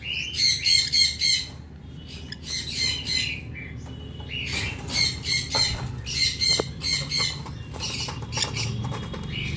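Black-capped conure squawking inside a cage, bought at the Serampore bird market: bursts of harsh, repeated calls come up close and loud, broken by short quiet gaps, over low background rumble.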